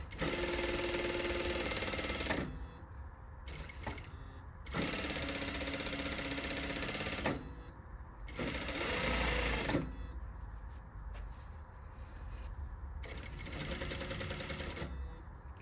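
A sewing machine stitches a curved half-inch pocket seam on a circle skirt, running in several bursts of steady whirring separated by short pauses as the fabric is pivoted, close and alone with no talk.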